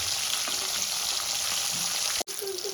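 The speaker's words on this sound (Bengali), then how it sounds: "মাছগুলো উল্টে এই পিসটা এইভাবে ভেজে তুলে দিন" Pieces of catla fish fry in hot oil with a steady, close sizzle throughout, briefly cut off near the end before the crackle resumes.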